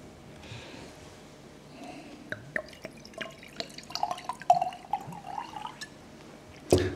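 Water trickles and drips into a glass at a lecture on digitising the environment: faint, scattered liquid splashes and small clinks with no talking, ending in one louder knock as the glass or bottle is set down.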